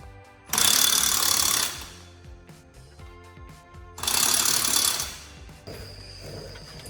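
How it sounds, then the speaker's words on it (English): Bolts on the upper control arms of a lifted two-wheel-drive Ford Ranger being tightened, probably with an air or power tool: two loud buzzing mechanical bursts of about a second each, separated by quieter clicking and clanking in a garage. "Chris is just tightening down these upper control arm bolts"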